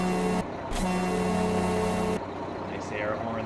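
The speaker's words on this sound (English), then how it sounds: "Nice air horn there. It really sounds like it should." A vintage semi-truck in American Truck Simulator blasts its air horn in a long, steady, brassy tone over the idling diesel engine, then drops back to the engine rumble.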